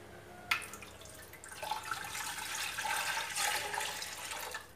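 Water is poured from a glass into a pot on a gas stove, a steady splashing pour starting abruptly and running on for several seconds, moderately loud and close, with no talking.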